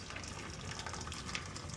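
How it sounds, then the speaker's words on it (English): Cooked pasta for homemade mac and cheese is strained over a pot with the lid held down, and the draining water makes a steady, rushing gush close by with no break. "So we're just straining out my noodles."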